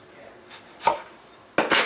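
A big giant jalapeno being chopped on a board: three knife strikes, two spaced apart and then a final quick double chop, close and crisp with no talking.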